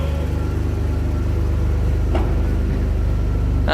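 A Mitsubishi 3000GT VR4 engine runs just after its first start, a steady close idle with a low rhythmic rumble and a couple of brief clicks.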